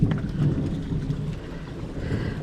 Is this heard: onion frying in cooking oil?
no